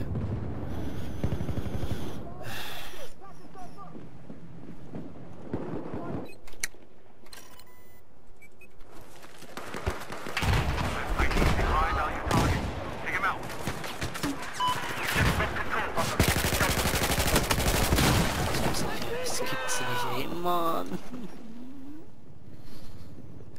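Bursts of rapid gunfire in the video game Battlefield 4 crackle repeatedly, some in sustained automatic volleys and others as scattered shots, with brief quieter gaps between them.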